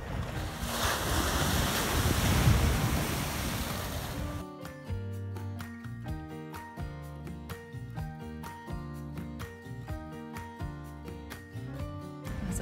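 Ocean waves and gusting wind on the beach at Port Fairy, Great Ocean Road, a loud steady broadband wash for the first few seconds before rhythmic music takes over for the rest.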